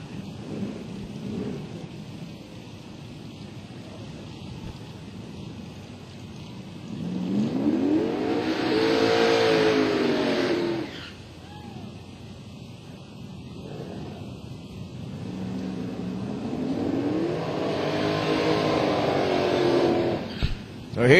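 A 1998 Pontiac Trans Am on Mickey Thompson drag radial tires makes a drag-strip run at Atlanta Dragway, engine roaring in two rising sweeps heard from a distance under an announcer's commentary.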